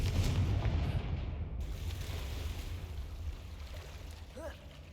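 A Confringo blasting curse from the wizarding game Hogwarts Legacy goes off as a deep, loud boom that rumbles and slowly fades over several seconds, with a brief faint voice-like flourish near the end.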